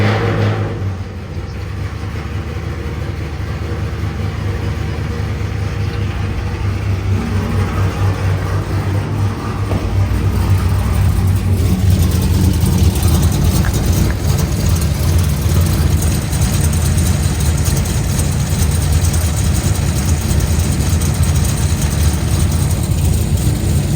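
A 2012 Chevrolet Camaro SS, 500+ horsepower, fired up after a clutch change, settling into a steady, loud, deep idle that grows a little fuller partway through, with no voices.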